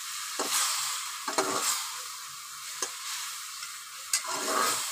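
Garlic-ginger paste with coriander powder and cumin frying in a pan, a steady close sizzle with a few sharp spoon scrapes and taps scattered through, no voices.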